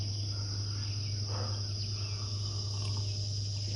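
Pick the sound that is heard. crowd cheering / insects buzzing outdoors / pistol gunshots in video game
insects buzzing outdoors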